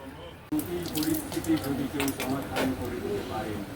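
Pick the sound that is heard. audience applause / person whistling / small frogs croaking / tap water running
tap water running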